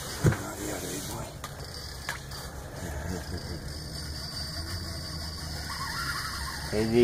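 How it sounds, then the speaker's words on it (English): An ice fishing reel screaming as a big pike strips line, heard as a steady sustained squeal running through most of the clip, outdoors with wind and a brief knock at the start. "And you can hear the pole just a screaming"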